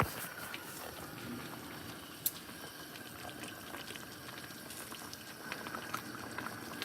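Khmer sour beef soup bubbles steadily in a pot, a faint, continuous simmering fizz and pop with no talk over it.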